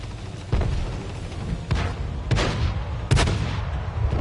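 Tank cannon shots in World of Tanks, four heavy booming reports spaced roughly a second apart over a steady rumbling battlefield background.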